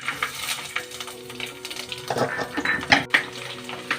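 Curry leaves dropped into hot oil for a Kerala-style pomegranate pickle, giving a steady crackling sizzle with scattered pan and utensil clinks close by, no talking.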